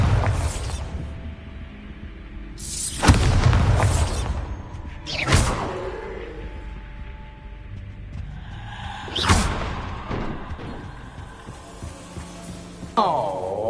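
Bombarda explosion spells cast in Hogwarts Legacy, heard as several loud booming blasts with whooshing bursts spread across the clip over a steady low game ambience.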